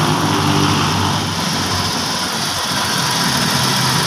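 Hyundai Eon car engine idling while warming up, a loud, steady close-range rumble with an even low throb and no talk.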